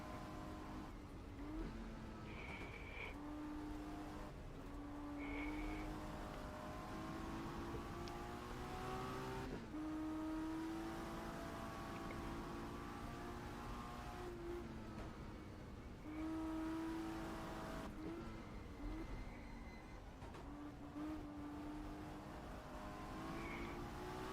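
A 1960s Ferrari grand touring race car in the GTR2 racing game revs hard and shifts through its gears. The engine whines steadily and rises and falls with each shift, running alone and loud with no talk.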